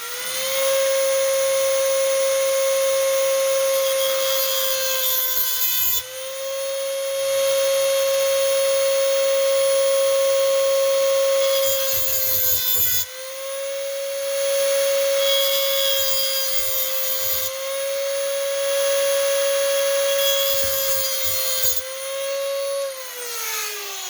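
A Dremel rotary tool fitted with a small grinder disc cuts notches into a knife flipper tab, a steady high-pitched whine held for long stretches, briefly dipping and changing tone as the disc bites the metal.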